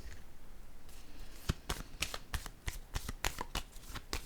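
Tarot cards being shuffled by hand: a quiet start, then a rapid run of crisp papery riffles and slaps in quick irregular bursts, close by.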